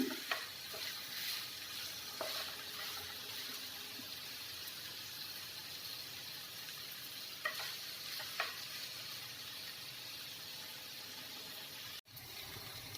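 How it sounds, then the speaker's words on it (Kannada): Soya bean chunks fry in oil with onion until golden brown, a faint, steady sizzle with a few light ticks from the pan and no voices. "ನಾನು ಇದನ್ನು ಗೋಲ್ಡನ್ ಬ್ರೌನ್ ಆಗೋವರೆಗೂ ಫ್ರೈ ಮಾಡ್ಕೊತಾ ಇದ್ದೀನಿ"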